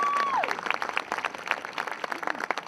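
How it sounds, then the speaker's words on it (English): Audience at a rally against child sexual exploitation gives a round of applause, moderately faint scattered clapping from a crowd, with a voice briefly heard at the start. "Give her a round of applause."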